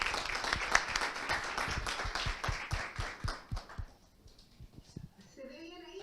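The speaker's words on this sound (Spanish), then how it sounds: "Les pido un cálido aplauso para Salomé Martínez." An audience claps for a speaker introduced before a mathematics lecture, a few seconds of applause with distinct individual claps that thins out and stops, followed by quiet room noise.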